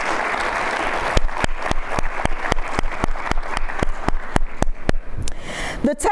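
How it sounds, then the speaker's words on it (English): A school district audience applauds a facilities team, broad clapping that holds steady for several seconds and thins toward the end, with a few sharp nearby claps standing out. "Let's give them another round of applause."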